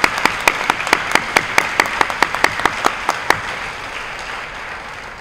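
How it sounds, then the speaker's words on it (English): Applause at a school committee awards ceremony, a steady wash of clapping with one close, sharp, evenly spaced clapper standing out for about three seconds before the applause thins and fades. "Round of applause, please."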